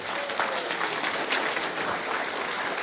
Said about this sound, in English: Let's give another round of applause to Paolo and Jet.